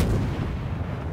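A booming naval artillery salvo in World of Warships, a single heavy, rumbling shot with a long low roar filling the whole moment, no voices over it.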